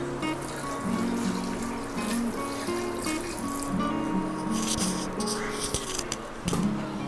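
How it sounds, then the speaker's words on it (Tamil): Water trickles and splashes steadily into a pot for several seconds while making biryani, with clattering kitchen background noise and a low hum underneath. "இங்கே ஃபஸ்ட்டு வந்து 4 டம்ளர் மட்டும் தண்ணி ஊற்றிடுறேன்"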